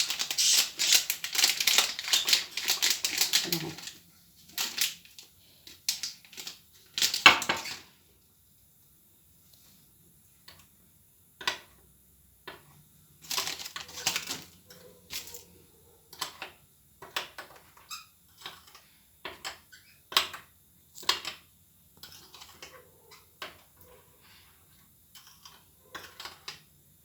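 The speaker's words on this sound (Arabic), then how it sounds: "هنقعد بقى نقلب كده الكريم جانتيه وندوبه في قلب اللبن" A spoon stirs crème chantilly powder into half a cup of milk, making scattered light scraping and clinking taps against the cup in irregular bursts with quiet pauses between.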